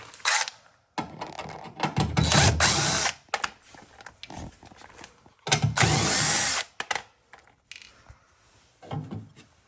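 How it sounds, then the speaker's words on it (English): Screws come out of a U-Line thermostat in short, loud power-driver bursts with ratcheting clicks, broken by quieter gaps and small handling clatter close by. "we're gonna start removing the screws for the thermostat right here"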